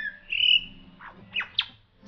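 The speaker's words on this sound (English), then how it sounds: "Someone tell me, quick, what is that bird?" An unidentified bird at Healesville Sanctuary in Australia gives a clear, fairly close, drawn-out whistled call followed by three short, sharp chirps in quick succession.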